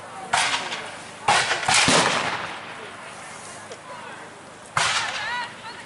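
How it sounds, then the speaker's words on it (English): Blank charges fired from an American long rifle during a Revolutionary War battle reenactment at Great Bridge, with several sharp, loud cracks spaced a second or more apart, each followed by a brief rolling echo outdoors. "an American long rifle will crack when it goes off"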